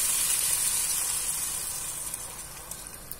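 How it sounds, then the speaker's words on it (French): Broth poured into a hot pan over browned chicken, producing a bright, steady sizzle and hiss that gradually fades and settles into softer bubbling. "Maintenant, on va rajouter notre bouillon."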